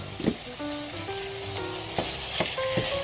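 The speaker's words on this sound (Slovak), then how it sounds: "vreté hovädzie mäso, ktoré jednoducho pridáme k cibulke a zamiešame" Hot beef dropped into a pan of frying onion sizzles steadily, with a few sharp scraping knocks of a spoon as the mix is stirred, close and moderately loud with no talk.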